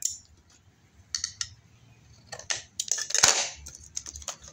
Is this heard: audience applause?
no